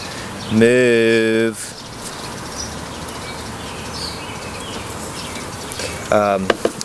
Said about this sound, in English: Excuse me, bees.